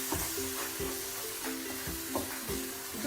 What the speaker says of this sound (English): Stir fry it until the cheese melts.